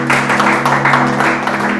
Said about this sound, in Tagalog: Palakpakan po natin ang Panginoon. Yung malakas po na palakpak, papuri sa kanyang pangalan.